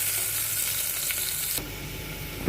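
Onions frying in a pan until brown give a loud, dense sizzle close by, steady at first, then shifting to a softer, duller hiss partway through, with no voices.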